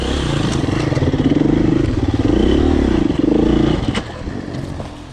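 A Husqvarna TE250 two-stroke hard enduro dirt bike powers through a rough trail section, its engine loud and close with a steady buzzing drone, brief surges and clattering, then easing off near the end.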